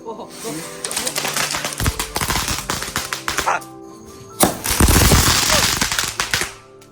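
Rapid strings of firecrackers crackle and pop in dense bursts, loud and close, with a brief pause before another sharp volley erupts.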